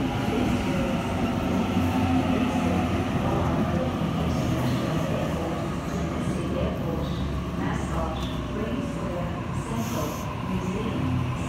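Sydney Trains Waratah electric train arriving at a platform on a City Circle service, a steady loud rumble of wheels and motors with faint squeals near the end, heard from the platform.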